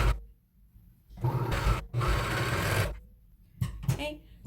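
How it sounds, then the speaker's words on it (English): A serger stitches the back and front seams of a hoodie in bursts, its motor whirring and rattling loudly for a second or so at a time with brief pauses between runs. "as I run this through my serger"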